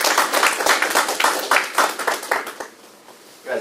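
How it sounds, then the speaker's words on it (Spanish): A small seminar audience claps for a speaker at a tax talk, brisk individual hand claps clustered together and close, fading out near the end. "démosle un fuerte aplauso"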